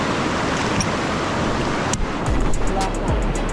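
A waterfall about 25 meters high, in Da Lat, Vietnam, pours down a rock face with a loud, constant roar. A few sharp knocks and a short change in the noise follow.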